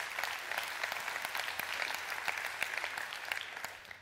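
An audience at a church talk applauds steadily, a dense, even patter of many hands clapping for about four seconds, fading slightly at the end, with no voices over it.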